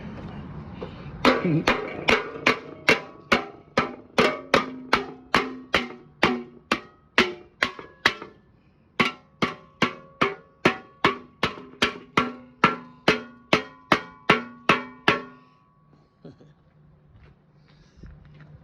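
Rapid, evenly spaced panel hammer blows on Yamaha Virago 250 motorcycle metal ring out in two long runs with a brief pause between, loud and close, then fading to quiet.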